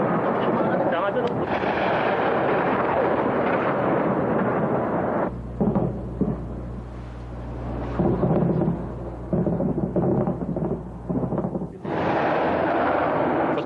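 Heavy bombs exploding nearby during the bombing of Baghdad, a loud sustained roar of blasts and rumble that breaks off, gives way to quieter thuds and crackle, then surges again near the end.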